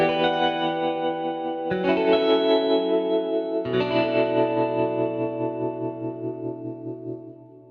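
A glassy, bell-like single-coil electric guitar sampled from the Desolate Guitars library, drenched in shimmering chorus and reverb, plays three ringing chords that sustain and slowly decay.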